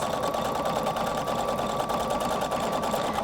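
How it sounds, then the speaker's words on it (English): A Husqvarna Viking Designer Brilliance 80 sewing machine stitching at a steady fast pace, a continuous close mechanical whir with rapid even needle clatter, no voices. "I'm going to sew until the machine stops again"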